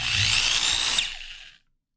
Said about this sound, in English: Please turn me down while I'm drilling.